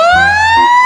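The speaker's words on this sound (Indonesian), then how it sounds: "mobil pemadam kebakaran." A toy fire truck siren wails loud and close, one electronic tone gliding slowly upward, with a low hum briefly underneath.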